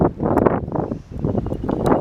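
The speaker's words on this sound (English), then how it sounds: "It's a very windy day today." Gusty wind on a cold day at Carsington Water reservoir in Derbyshire buffets the microphone in rough low bursts that swell and briefly drop away.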